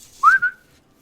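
A character in the video game Oblivion whistles one short, clear rising-then-steady tone, close and alone, about half a second long.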